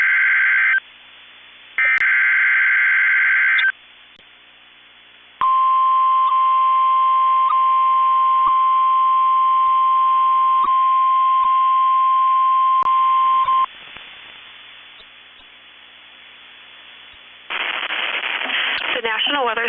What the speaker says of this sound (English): has just activated the warning alarm on 13 weather radio stations across central and southern Minnesota and west central Wisconsin